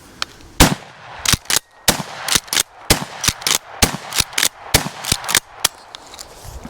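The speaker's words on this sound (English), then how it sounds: "So we'll take a couple shots and let you guys see how it sounds." Repeated loud gunshots from an Akkar Churchill 12 gauge pump-action shotgun, roughly a dozen sharp blasts at an irregular steady pace with mechanical clatter between them, heard close and without talk.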